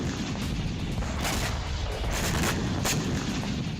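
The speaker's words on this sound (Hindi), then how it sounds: "एक के बाद एक कई धमाके हुए।" A rapid series of booming Russian missile explosions and sharp cracks in Odesa, Ukraine, one after another, over a constant heavy rumble.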